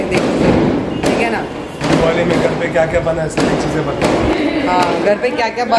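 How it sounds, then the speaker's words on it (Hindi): Firecrackers burst outside during Diwali, a series of sharp thuds and bangs spaced roughly a second apart, heard in the background under a child and an adult talking. "पीछे पटाखे की आवाज़ इतनी आ रही है"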